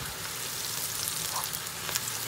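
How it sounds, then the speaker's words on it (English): Soumbara is stirred into a sauce frying in a pan, producing a steady, close, hissing sizzle with faint scraping throughout. "Stir it all in. Hmm, I can smell the soumbara already"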